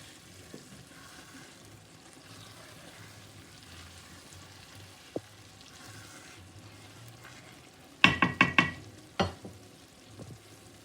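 Shito sauce simmering slowly in a pot, with a faint, low bubbling hiss, then a brief cluster of loud clattering knocks near the end.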